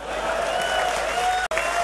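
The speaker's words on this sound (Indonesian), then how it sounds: "Tepuklah sikit." An audience at a religious talk applauds in a dense, continuous wash of clapping, broken by a split-second gap near the end before resuming.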